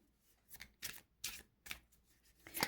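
A deck of tarot cards being shuffled, a series of about six quick riffling bursts in an uneven rhythm, close and fairly quiet, with no voices.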